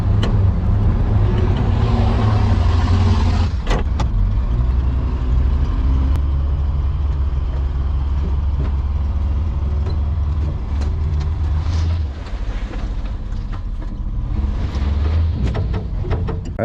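A dump truck engine runs at a steady, loud low rumble on a farm pond dam site, with a few brief knocks and clanks over it and no talk.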